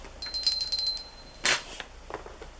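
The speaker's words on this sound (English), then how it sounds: "There's a vintage bell." A small vintage bell from a flea market craft lot jingles in a quick run of light rings, then gives one sharper, louder ring and fades to a few faint taps, close by with no talking.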